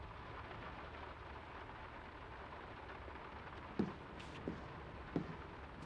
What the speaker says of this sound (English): the rain's not abating. It's really coming down.